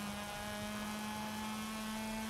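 A vehicle engine at full throttle drones steadily from start to finish, a loud sustained tone with a strong low hum and higher harmonics, no pauses and no talk.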